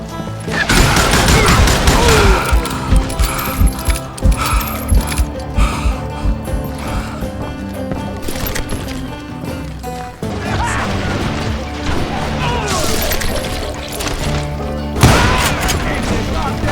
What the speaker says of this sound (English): Waste your bullets. Go ahead. Keep shooting.